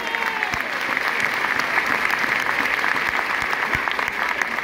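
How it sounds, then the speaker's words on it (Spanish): Loud, dense applause from a church audience in Miami, sustained clapping close up with a few faint voices mixed in. "Dar un aplauso a Jesús."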